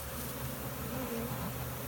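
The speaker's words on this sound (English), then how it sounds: "There's a lot of bees still in there." A dense swarm of honeybees buzzes inside a hive during a swarm catch, a close, continuous droning hum with no voices.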